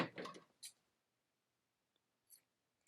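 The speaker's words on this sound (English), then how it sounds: "We're going to cut the yarn" Scissors snip through knitting yarn, close and quiet: a brief rustle of handling, then two short, crisp snips separated by a pause.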